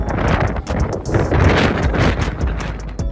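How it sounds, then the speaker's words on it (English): Strong wind roars and buffets against the microphone on a cold, foggy off-road trail beside a 2024 Toyota Tacoma TRD Off-Road, loud and continuous. "As you can clearly see, the wind started picking up."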